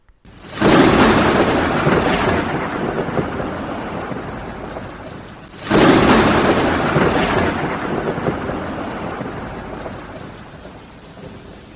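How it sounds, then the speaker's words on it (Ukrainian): Two loud thunderclaps crack and roll into long rumbles, with steady heavy rain pattering throughout. "аж чує, загримів грім"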